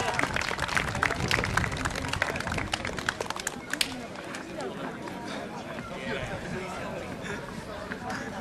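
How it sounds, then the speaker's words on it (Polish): Applause rises from an audience at a trophy presentation in Domaradz, loud mixed clapping and chatter at first, then thinning into a softer murmur. "Prosimy o brawa, proszę Państwa."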